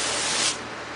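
Water spraying hard from a hose to rinse mud off an off-road vehicle after mudding, a loud, close, continuous hiss that eases slightly partway through.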